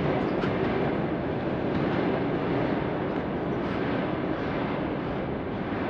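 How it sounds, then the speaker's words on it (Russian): A dense, steady roar of a train rolling along the tracks in Krasnodar fills the scene continuously, loud and close, with no pauses. "мы с вами слышим, как состав идет по железной дороге"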